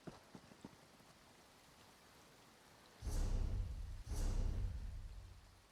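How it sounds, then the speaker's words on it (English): Pouring rain in Marbruk, a town in the video game Elder Scrolls Online, as a faint quiet backdrop that suddenly swells into a loud, dense downpour wash in two surges. "And the pouring rain of a sodden Marbruk afternoon."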